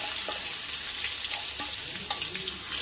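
Ground masala paste fries in hot oil with mustard seeds for a ridge gourd curry, giving a close, steady sizzle broken by a few small pops and faint stirring sounds. No one speaks.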